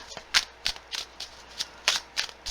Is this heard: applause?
no